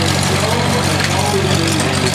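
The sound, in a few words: small Titan engine running a stationary baler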